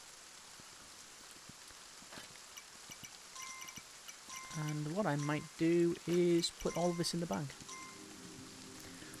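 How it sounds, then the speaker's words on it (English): Steady rain patters on surfaces in the video game Kingdom: Two Crowns, a soft continuous hiss running through the whole scene while a voice talks over the middle section. "Ironically, it is raining."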